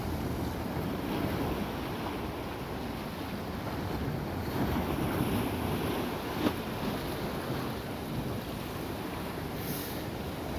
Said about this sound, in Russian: Короче, шум моря перед сном.